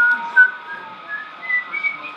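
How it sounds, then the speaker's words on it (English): A man whistles out of the side of his mouth, producing a thin, airy, wavering tune of short held notes with brief swells, fairly close and with no talking over it. "He whistles out of the side of his mouth."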